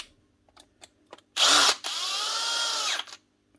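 A power drill bolts a Dewalt DCW600 18V cordless trimmer back together, with a few light clicks and handling taps, then one loud whirring burst that stops briefly and runs again for over a second.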